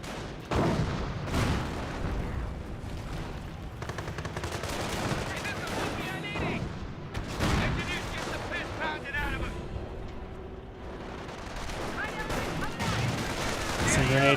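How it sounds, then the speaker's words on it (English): A grenade goes off amid sustained WWII-style gunfire and machine-gun bursts in the strategy game Company of Heroes, with booming impacts and rattling shots layered continuously at moderate volume. "Some grenade has been fired."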